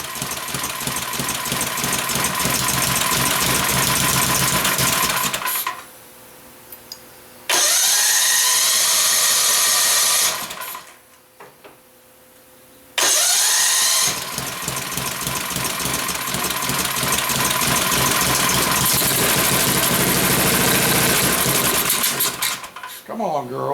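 Small cart engine cranked after a hand choke, roaring loudly, cutting out twice with brief quiet gaps, then catching again and running steadily at a fast, buzzing idle close by.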